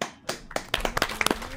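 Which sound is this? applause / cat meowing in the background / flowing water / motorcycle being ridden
applause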